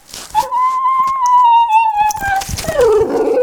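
A dog whimpers and whines in a long, rising and falling cry, close and fairly loud, ending in a softer whine, in The Last of Us Part II video game.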